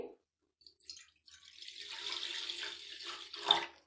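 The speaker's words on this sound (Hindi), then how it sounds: "दो गिलास हम पानी लेंगे" Tap water runs and splashes into a pot being filled to boil about a kilogram of chicken for kachori filling, a soft steady stream after a few brief drips, fairly close and with no talking.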